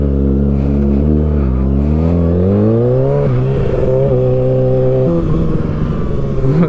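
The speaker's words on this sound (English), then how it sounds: "Dude, this exhaust sounds so good." Kawasaki ZX6R motorcycle fitted with an M4 GP19 exhaust revs loud and close, its engine note climbing and dropping through several rising sweeps of throttle without a break.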